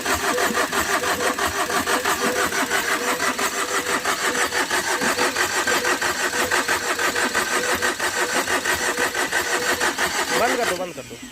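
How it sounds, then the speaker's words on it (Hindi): A Tata Vista that overheated has its starter cranking the engine over and over without it firing, a loud, rapid, rhythmic whirring churn that runs steadily for about ten seconds, then cuts off. "लगभग 4-5 क्रैंक पूरे हो चुके हैं, इसके बावजूद भी गाड़ी स्टार्ट नहीं हो रही है।"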